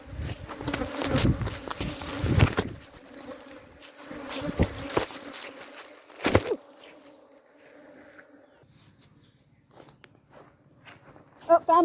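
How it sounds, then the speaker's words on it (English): Honeybees swarm and buzz steadily and close by in Congo, a droning hum that continues throughout, joined by footsteps, rustling and a few louder scrapes and thumps. "they're kind of getting a little aggressive. I don't know if you can tell or hear them, but they're like swarming around me"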